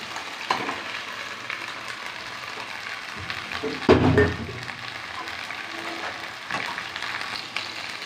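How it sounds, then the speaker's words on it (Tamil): Cleaned prawns drop into a pan of sizzling tomato gravy, giving a soft steady frying hiss with a brief louder burst of sizzle as they go in, then continued gentle crackling. "இப்போ வந்து நான் இறால் தான் க்ளீன் பண்ணி வச்சுருக்கேன் இதைத்தான் இப்போ போட போகிறோம்"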